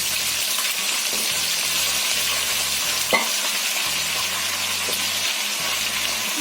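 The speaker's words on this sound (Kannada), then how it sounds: "ಟೊಮೊಟೊ ಆಯಿಲಲ್ಲಿ ನೀಟಾಗಿ 10 ಮಿನಿಟ್ಸ್ ಫ್ರೈ ಮಾಡ್ಕೊಬೇಕು" Tomatoes fry in hot oil for vegetable sambar, a dense continuous sizzle with occasional stirring scrapes and a single clink midway, no voices.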